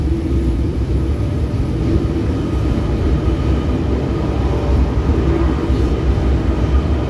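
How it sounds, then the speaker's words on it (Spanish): A deep, steady rumble of an approaching Buenos Aires subway train fills the space, loud and continuous with no talking. "Se está acercando otro subte, estimo yo."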